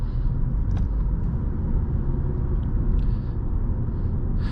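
A 2021 Volkswagen Passat drives along, giving a steady low cabin rumble of road and engine noise throughout, with a few faint clicks.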